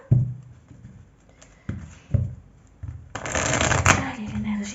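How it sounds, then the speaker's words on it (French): Tarot cards are shuffled by hand in a few separate riffs and taps, then a longer, denser stretch of shuffling close to the listener. "je vais bien mélanger les cartes"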